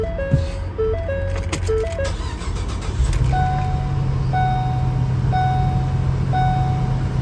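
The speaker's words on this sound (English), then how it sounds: "let me start the car" A van's engine cranks and catches, then settles into a steady idle hum, while a looping electronic chime plays the whole time, loud and close.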